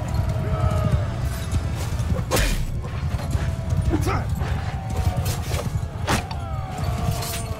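Hooves gallop in Mount and Blade II Bannerlord, a steady clip-clop running throughout with sharp combat hits and other game sounds mixed in.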